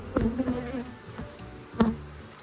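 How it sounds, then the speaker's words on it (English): Honeybees buzzing around a beehive, a close steady drone with individual bees swooping past the microphone, no talking. "how many bees do you estimate are in one hive?"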